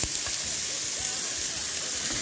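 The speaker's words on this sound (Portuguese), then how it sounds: "Pega a carne e sela ela." Meat sears in a large frying pan with a steady, dense sizzle filling the whole short stretch, close and fairly loud, with a few soft low knocks underneath.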